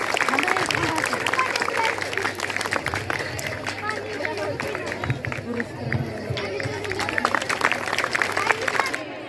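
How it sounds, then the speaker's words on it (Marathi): An audience at a school entertainment programme claims loudly and steadily for a group of children, a dense continuous patter of many hands mixed with crowd chatter throughout. "त्यांच्यासाठी जोरात टाळ्या वाजवायच्या."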